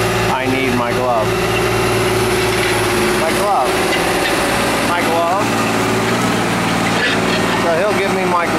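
A tractor engine runs steadily close by during combining work, with a constant drone and harmonic hum under people talking intermittently.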